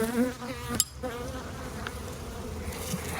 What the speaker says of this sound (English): Bees are pretty happy.